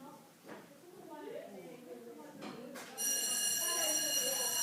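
An electric school bell starts ringing partway through, a steady buzzing ring continuing to the end, heard in a classroom painting lesson on mixing a colour wheel while a teacher speaks quietly beforehand.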